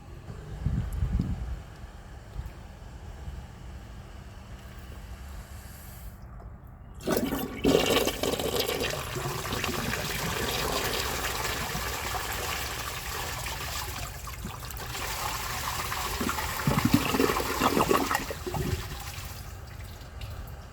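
A 1981 Eljer Murray toilet flushes a dish towel: a handle clunk, then a loud rushing swirl of water that drains and gives way to steady refill trickling, close by.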